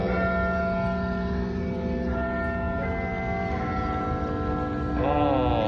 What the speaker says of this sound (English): Fun fact about the Elizabeth Tower, the bell inside is called Big Ben.